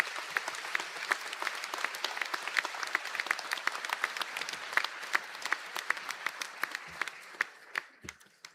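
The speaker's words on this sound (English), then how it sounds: "A round of applause for the graduates." Audience applause for graduates at a university conferring ceremony in Donegal, a steady patter of many hands clapping at moderate distance that thins out and tapers to scattered claps near the end.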